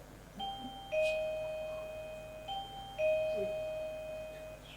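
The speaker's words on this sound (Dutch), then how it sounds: "De bel!" A two-tone doorbell chimes twice, each ding-dong ringing out clearly and fading, in an otherwise quiet room.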